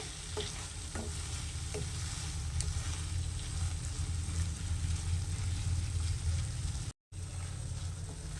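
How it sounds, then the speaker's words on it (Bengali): Beetroot halwa stirred in a pan with milk cream, a thick continuous frying hiss under repeated scraping strokes, with a brief dropout near the end and no voices. "এটা এখন ভালোভাবে নাড়াচাড়া করে নিতে হবে।"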